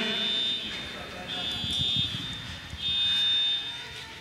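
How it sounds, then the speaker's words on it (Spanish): An alarm buzzer sounds in a church setting in repeated long steady tones, pausing and resuming, over a murmur of people talking in the room. "la alarma quiere decir que ya se vaya"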